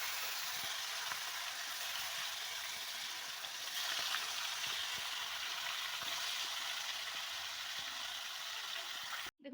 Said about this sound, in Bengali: এতে এবার মাছটা দিয়ে দিচ্ছি